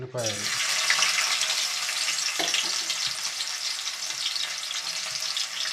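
Sliced onions fry in hot oil with a loud, continuous sizzle and hiss, broken by a few light stirring knocks.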